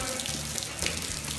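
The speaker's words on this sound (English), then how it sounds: "It's a leak." A water leak running in a steady, close rushing stream with a hissing, splashing texture, continuous through the brief moment.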